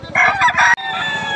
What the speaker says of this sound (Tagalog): Puro pogi manok niya ni Boss Perry.